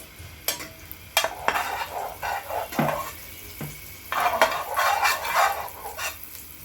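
Butter and mushrooms fry in a separate pan for red pasta, giving a soft sizzle broken by several sharp clatters and stirring bursts in irregular clusters, close and without speech.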